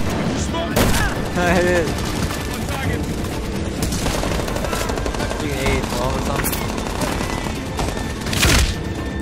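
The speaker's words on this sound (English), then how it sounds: "This is a shotgun." Gunfire from a shotgun in the Medal of Honor Warfighter video game, with dense, rapid shots and booms over a loud battle din; brief talk is mixed in.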